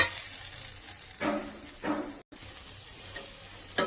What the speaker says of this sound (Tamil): ஒரு 5 மினிட்ஸ் இந்த மாதிரி நல்லா வதக்குங்க.